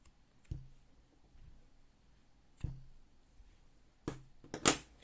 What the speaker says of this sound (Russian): и обрезаю хвостики.